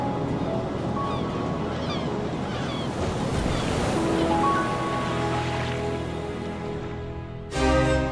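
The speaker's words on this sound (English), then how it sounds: "Sea." Sea waves breaking and surging in a steady, loud, continuous wash of surf, with wind noise mixed in and a sudden heavier swell near the end.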